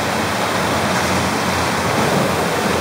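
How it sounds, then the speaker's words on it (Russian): Loud, steady rushing water of a river ride at the Piterland water park in Saint Petersburg, a continuous broadband roar of churning water with no pauses and no talk over it. "Смотрите, какая река."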